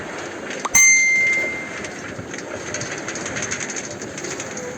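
A minecart rolls along rails in the Minecraft video game, opening with a sharp bright metallic ring and then a steady rumbling clatter that continues to the end.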